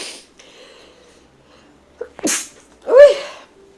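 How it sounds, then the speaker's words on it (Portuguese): A single sharp sneeze bursts out close up, preceded by a quick intake of breath, in an otherwise quiet room. "Tenho espirrado bastante nos vídeos, né?"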